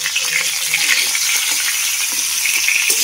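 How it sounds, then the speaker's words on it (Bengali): Pointed gourd pieces frying in hot oil with salt and turmeric, a steady close sizzle with crackling pops throughout and no talk. "এবার পটলগুলো ভালো করে ভেজে নেব"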